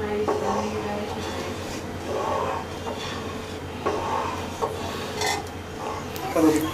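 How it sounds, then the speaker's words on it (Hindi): Lentils being stirred in a cooking pot for sambhar, a soft scraping and rubbing of the spoon against the pot, moderately close, with a few clinks and a voice talking over it. "दाल डालने के बाद हल्के हल्के इसको चलाते हैं"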